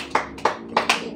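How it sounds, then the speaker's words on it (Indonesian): Four sharp hand claps ring out in a room during a church sermon, spaced unevenly with brief reverberant tails and no voice over them. "Beri tepuk tangan dulu dari rumah masing-masing."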